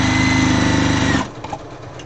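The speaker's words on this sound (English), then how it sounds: "I'm not even sewing straight." A sewing machine runs steadily, stitching together fabric scraps, then stops abruptly partway through, leaving quieter handling noises and faint clicks.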